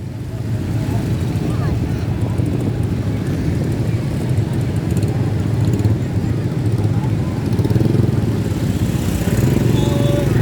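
A motorcycle engine revs and drones continuously on a beach, loud and close, with the buzzing throttle rising and falling over about ten seconds while people talk in the background.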